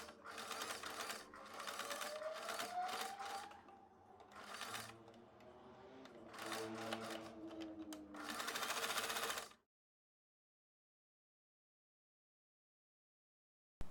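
A sewing machine runs in several bursts of rapid stitching, stopping and starting, as scrap fabric is sewn over both ends of a zipper pouch with a regular presser foot; the machine then falls silent.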